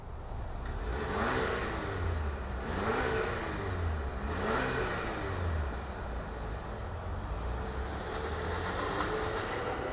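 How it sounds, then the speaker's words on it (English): The four-cylinder engine of a 2025 Chevrolet Traverse High Country revs repeatedly in a steady rising-and-falling rhythm, close and continuous, with no talking. "It's got a 4-banger. Let's fire it up and hear what it sounds like."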